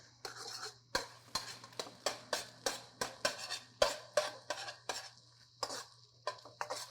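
Egg being stirred and broken up in a pan with a utensil, a steady run of sharp scraping and clinking strokes about twice per second over a low hum, close and clear, no talking.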